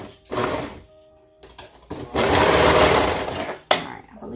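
A serger sews fabric for a toddler maxi dress in short whirring bursts, one brief run and then a longer steady one of about a second and a half, close by. A person talks between the bursts.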